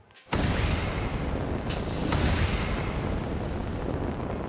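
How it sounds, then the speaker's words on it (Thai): A test gas explosion in a room with a window sets off a sudden loud blast, then a dense, sustained roar that rumbles on steadily without dying away. "นี่คือการระเบิดแบบห้องที่มีหน้าต่างนะครับ"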